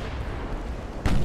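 Naval artillery from 14-inch battleship guns in a 1915 Dogger Bank battle in the game Ultimate Admiral: Dreadnoughts, a single loud broadband boom arriving near the end over a steady rumbling battle ambience.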